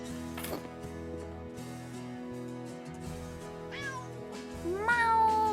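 Cat meowing in the House Flipper video game during farm renovation work, several clear meows in a row, rising and falling, over a steady game music background with mechanical clicks.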